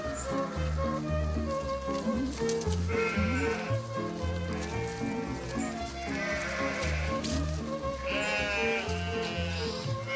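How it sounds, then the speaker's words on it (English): A flock of about sixty sheep bleats continuously in a pasture, many overlapping calls near and far in a dense, steady chorus, with no speech. "Hatsi, a Hungarian Pumi, tends her flock of 60 sheep with her shepherd, Gobi Patko."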